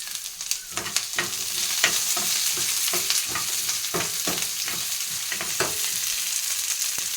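Carrot pieces, onion and green chili stir-fry in a pan, giving a steady oily sizzle close by, broken by quick repeated scrapes and tosses of the spatula, with no talking.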